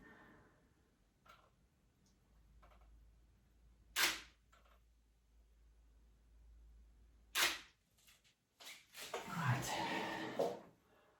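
A camera shutter fires at a food photography shoot of butterscotch and banana Dutch baby pancakes. Two sharp, isolated clicks stand out in a quiet room, with faint ticks between them and people talking at the end.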